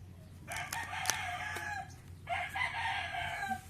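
A rooster crows twice in quick succession outdoors, each call a drawn-out cock-a-doodle-doo, moderately loud and clear with no talking over it.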